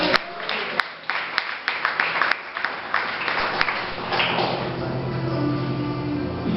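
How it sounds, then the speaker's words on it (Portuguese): A church congregation applauds during a sermon, with loud, dense clapping that builds into a sustained burst and carries on to the end. "Você pode aplaudir ao Senhor por isso?"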